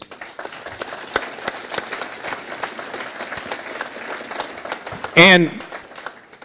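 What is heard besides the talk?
audience applause for restaurant representatives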